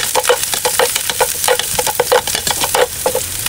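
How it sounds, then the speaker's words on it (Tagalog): Garlic frying in oil in a pan for cashew fried rice, a loud close crackling sizzle with rhythmic scraping stirs throughout, no talk over it. "Lalagyan ko lamang siya ng kunting mantika para paglalagyan ko lamang siya ng bawang."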